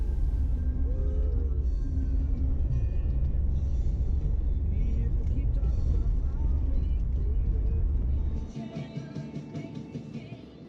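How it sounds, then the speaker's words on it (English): A Jeep drives along the only open road in the Big Sur area of Los Padres National Forest, giving a steady, loud low engine and tire rumble from inside that drops off sharply near the end; no talk. "I set off in my Jeep to explore the only road open in the Big Sur area"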